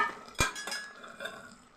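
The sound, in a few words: lentil fritters added to cooking bottle gourd curry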